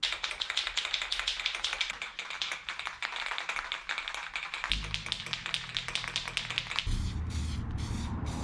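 An aerosol can of rust encapsulator is shaken and then sprayed onto a 1961 Parkwood Wagon. Quick rattling taps give way to a steady, close hissing spray that runs on with no talking.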